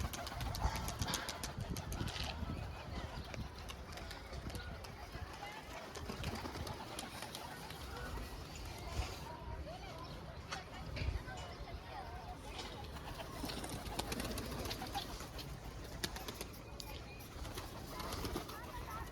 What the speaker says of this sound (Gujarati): જો તમે બધા આપણા કબૂતર ખુલી ગયા છે બારે